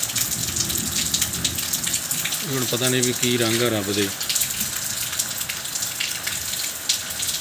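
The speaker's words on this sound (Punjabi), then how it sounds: "ਬਾਰਿਸ਼ ਨੂੰ ਟੈਂਟਾ ਹੋ ਗਿਆ ਸ਼ੁਰੂ ਹੋਈ ਨੂੰ ਕਦੇ ਮਾੜੀ ਜਿਹੀ ਸਲੋ ਹੋ ਜਾਂਦੀ ਹੈ ਕਦੇ ਤੇਜ਼ ਹੋ ਜਾਂਦੀ ਹੈ" Steady rain pours down over farmland in Punjab, a dense, even hiss that lasts the whole stretch, with someone speaking briefly over it in the middle.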